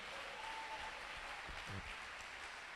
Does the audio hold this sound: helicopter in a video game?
no